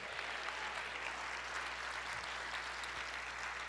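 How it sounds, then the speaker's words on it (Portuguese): A church congregation applauds the Lord in steady, continuous clapping, faint and distant, with a low electrical hum underneath. "Então aplauda ao Senhor"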